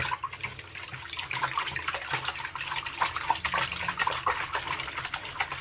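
A hand swishes and stirs toning shampoo through a basin of water, making continuous close splashing and sloshing with irregular bursts.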